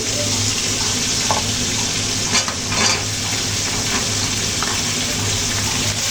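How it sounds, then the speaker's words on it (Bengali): Flat beans and potatoes frying in a pan for a small fish curry, a steady close sizzle with soft stirring scrapes and faint watery splashes, no voices. "শিম আর আলু সবজিটা হালকা করে ভেজে নেব"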